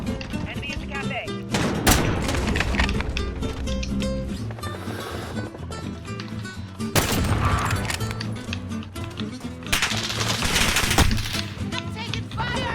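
Gunfire in the video game Modern Warfare: dense bursts of automatic shots and sharp single reports crack over a busy game soundscape, loud and continuous across the clip with brief spikes of heavier fire.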